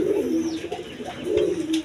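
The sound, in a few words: pair of Gorra pigeons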